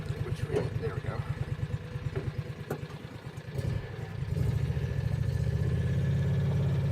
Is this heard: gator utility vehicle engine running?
yes